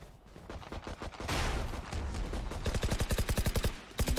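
Rapid shotgun and gunfire bursts from the video game Valorant on the Icebox map, a dense clatter of shots followed by a fast, evenly spaced volley of blasts near the end.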